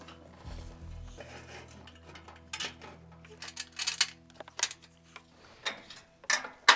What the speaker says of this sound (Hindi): इसको हम 10 नंबर का रिंच यूज करते हुए इसको फुल टाइट कर लेंगे